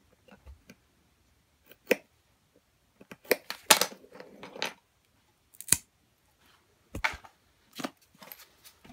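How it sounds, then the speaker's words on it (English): Scissors snip through popsicle sticks for a cardboard flipper build, a scattered series of about eight crisp, close cuts separated by short quiet pauses. "And again, I'm just going to cut it."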